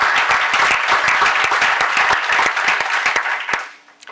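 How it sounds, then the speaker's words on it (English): An audience at a town State of the Town address breaks into sustained applause, dense clapping filling the room before it trails off near the end. "Let's give them a round of applause."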